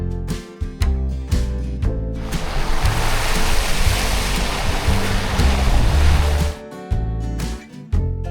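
Steady roaring wind gusts buffet the microphone near Lightning Ridge, New South Wales, Australia, a broad rushing noise that swells and holds for several seconds before easing.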